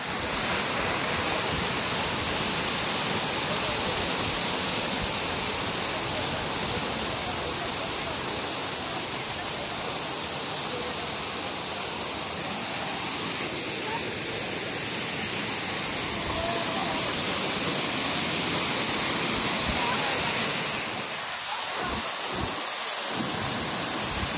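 Masila waterfall in the Kolli Hills roars as a continuous heavy wash of falling water, dense and steady throughout, with a few brief thumps near the end.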